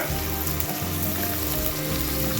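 Onions sizzle and crackle steadily in a pan after salt goes in, a dense close frying hiss with no voices over it, for mutton bone and bitter gourd curry.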